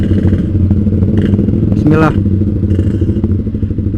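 A motorcycle engine chugs steadily and loudly while being ridden along a narrow route, with someone speaking briefly over the running engine.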